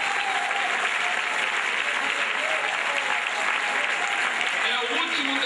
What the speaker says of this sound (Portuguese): Quem crê, aplaude a Jesus bem forte.